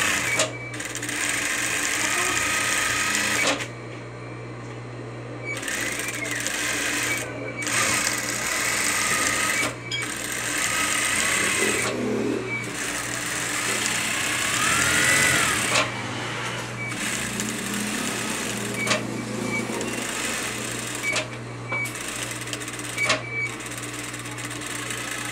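A sewing machine stitches the seam of a fabric neck pillow in several loud, steady whirring runs, stopping briefly between them as the fabric is turned, with occasional quiet background sounds.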